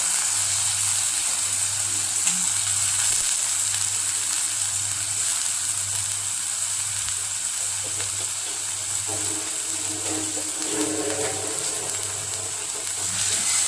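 Tomatoes sautéing in a pan for brinjal bharit give off a continuous close sizzle and hiss, with a faint repeating low hum and occasional stirring scrapes.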